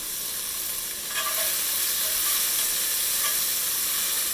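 Salt and pepper shrimp sizzling in a hot pan while being stirred, a steady close-up hiss and crackle with occasional scraping touches of the utensil, loud and continuous with no talking.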